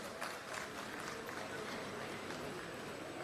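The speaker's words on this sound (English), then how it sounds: "can we all give a huge round of applause for our eminent dignitaries on dais" Audience at a three-day national government workshop applauding dignitaries on the dais, a steady, fairly faint patter of many hands clapping throughout with a roomy, crowd-like wash.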